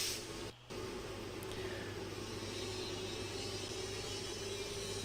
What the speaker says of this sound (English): that's the big giant fan motor you're hearing